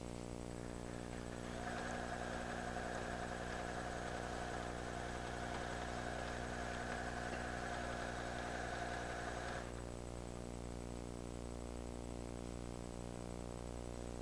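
A PFAFF creative 7570 sewing machine from 1996 stitches a stretch seam while ribbing is sewn to a neckline, giving a faint, steady mechanical whir that starts, runs for about eight seconds, then stops over a constant low hum.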